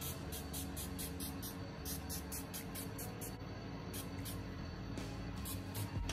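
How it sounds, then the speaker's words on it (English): A rapid series of short, hissing bursts of facial mist sprayed onto a face, about a dozen quick pumps close by, with a pause before a final few. "I'm gonna go ahead and spray my face with this Farsali water"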